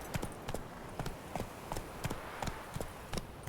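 Roach, Geralt's horse in The Witcher 3: Wild Hunt video game, gives a steady clip-clop of hooves at a walking pace, about two to three hoofbeats per second, fairly faint and close, with little else audible.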